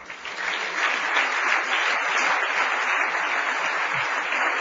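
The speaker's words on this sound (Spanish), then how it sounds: "Démosle un aplauso al Señor." A church congregation applauds during a Spanish-language service, a dense, steady burst of clapping from many hands that holds for several seconds.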